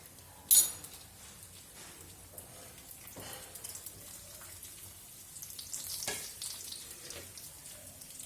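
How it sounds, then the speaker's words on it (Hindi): Urad dal, chana dal and red chillies roasting in a pan, a faint, soft crackle and sizzle with a sharp clink near the start and occasional light scrapes of stirring. "इसे भून लीजिए जब तक कि ये गोल्डन ब्राउन ना हो"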